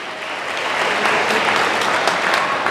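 Applause in a church congregation, dense clapping from many hands swelling slightly and holding steady throughout, loud and close with no voices over it.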